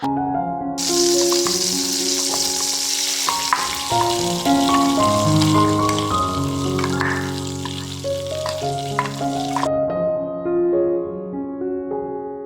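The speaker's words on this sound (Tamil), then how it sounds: "கொஞ்சமாக எண்ணெய் விட்டு இப்போ தாளிக்க போகிறேன் அதுக்கு கொஞ்சமாக பெருஞ்சீரகம் ஆட் பண்ணியிருக்கிறேன்" Fennel seeds and onion paste fry in oil for a basic onion gravy, giving a loud, steady sizzle that runs for about nine seconds. A softer crackle continues after it, with no talking.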